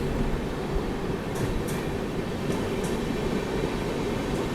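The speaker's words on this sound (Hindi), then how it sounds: "तो सिग्नल मिल गया, अब स्पीड अप हो रही है अपनी ट्रेन।" An Indian passenger express train gathers speed after getting a signal, a loud steady rumble of rolling wheels with a few sharp metallic clicks, heard from on board and without voices.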